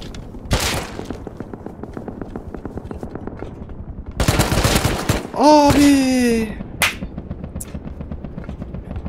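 Gunfire in the survival video game Rust: a rapid, sustained burst of automatic shots, then another loud volley and scattered single shots, with a rising whine in between, close and loud.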